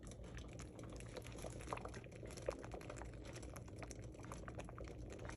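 Faint, continuous bubbling of maple sap boiling in a pan, a soft seething texture with small pops, steady throughout.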